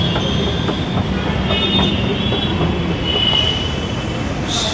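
A Hyderabad metro train runs at the end station with a loud, steady rumble of rolling wheels, high squealing from the rails and faint clicking, close and continuous with no voices.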